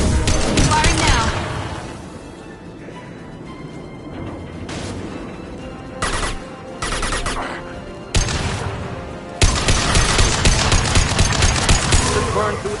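Weapon fire in Mass Effect 2 comes in loud rapid bursts, with quieter gaps between volleys and heavy sustained firing toward the end.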